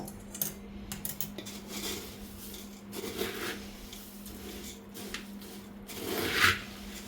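Spiced roasted poha chiwda is stirred in a metal pan, producing soft intermittent scraping and rustling clinks at close range, fairly quiet, with one brighter metallic tap near the end.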